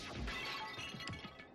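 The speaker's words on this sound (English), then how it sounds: "I grabbed the Monokuma bottle from the shelf and smashed it across her head" A bottle smashes over a head in the Danganronpa video game: a sharp, bright glass shatter with tinkling fragments, close and fairly loud, heard alone.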